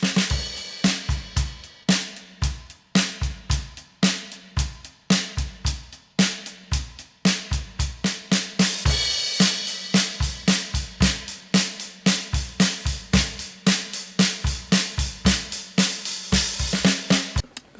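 Drum kit from a one-man-band cover, heavy with echo chamber reverb: steady, loud, evenly spaced hits with booming lows and splashy highs ringing into a wide room tail, with no voices.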